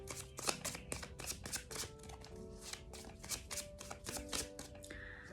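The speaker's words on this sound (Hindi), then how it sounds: "These are so many cards. I will take a few." Tarot cards are shuffled and handled, giving a close, quiet series of quick papery riffles and taps in an uneven rhythm, with faint background music underneath.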